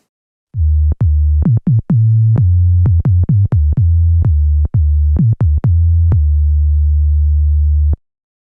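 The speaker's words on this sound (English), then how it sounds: "use the filter as a sine wave oscillator" A pure, low electronic sine tone from a KORG minilogue synthesizer's self-oscillating filter sustains loudly, retriggered in a series of uneven pulses with clicks at each restart, then holds and stops.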